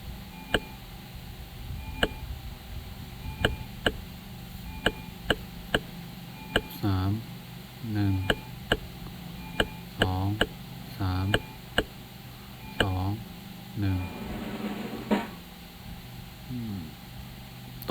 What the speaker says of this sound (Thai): เสียงเคาะ